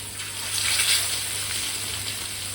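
Kingfish (neymeen) slices fry in a pan, giving a steady, close sizzling hiss that swells briefly and then holds evenly.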